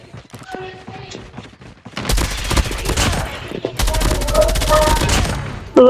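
Rapid automatic gunfire in the mobile shooter Call of Duty Mobile, a sustained fusillade of close, loud shots starting partway in and running in dense bursts, with voice lines and game speech mixed in before the firing.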